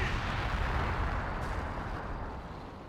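In Company of Heroes 2, artillery fire brings down a building: a deep, rumbling explosive roar fills the whole clip, slowly fading as debris settles, moderately loud with no talk over it.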